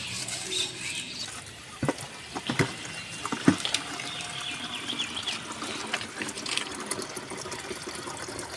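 Water runs from a pipe in a vegetable garden, a trickling, splashing flow with scattered sharp drips and patters over a steady low wash, close by and with no talking.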